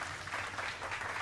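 Applause in an audio drama, a brief burst of clapping from a crowd heard at moderate level and fairly distant, with no voices over it.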